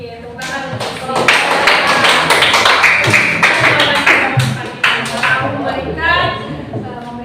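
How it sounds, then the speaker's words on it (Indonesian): Students in a classroom clap together after an anti-bullying group presentation, a loud sustained round of close, uneven hand claps lasting several seconds, with voices mixed in. "Oke, tepuk tangan."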